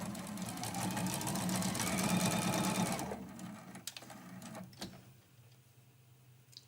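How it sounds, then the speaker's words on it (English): A sewing machine stitching the seam of a quilted mug rug runs in a steady fast whir for about three seconds, then stops, followed by a few light clicks and handling sounds. "I just sew right off the edge."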